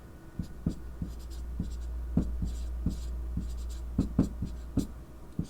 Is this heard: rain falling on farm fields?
no